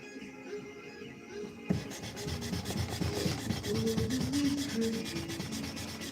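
Hand sanding a forged knife blade: steady rhythmic rubbing strokes of abrasive against steel, close and continuous, starting after a quiet moment and carrying on without talk.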